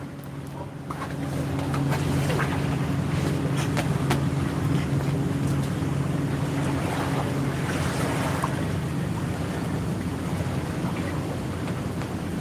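A boat passes on the water on a morning in Kavieng, Papua New Guinea. A steady low engine drone is heard from a middle distance over wind and lapping water, holding fairly constant throughout.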